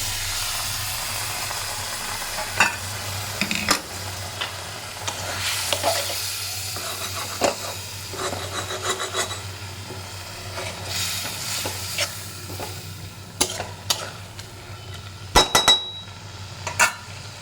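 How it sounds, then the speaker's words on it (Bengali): Leafy greens dropped into a hot spice tempering hiss and crackle under a low hum, with repeated sharp clacks and scrapes of a spoon against the pot as they are tossed. "তারপর যে শাকটা ছিল সেই শাকটা এটাকে ফোড়নে দিয়ে দিলেন"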